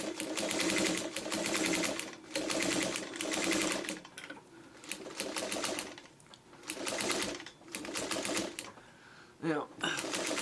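A sewing machine stitches through a quilt in several long, steady runs of rapid needle chatter with brief stops between them, up close, while a person talks over it.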